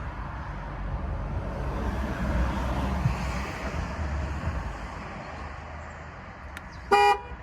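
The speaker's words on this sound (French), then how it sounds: "une fois qu'elle klaxonne 2 fois à la fin, ça veut dire que la réinitialisation est faite" After a stretch of low outdoor rumble, a Chevrolet Camaro gives a short, sharp horn toot near the end to confirm a tire pressure sensor reset, heard close by with no talking.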